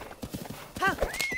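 Horse in The Legend of Zelda: Breath of the Wild, hooves clip-clopping briefly before a short, close whinny rises near the end, with some voice underneath.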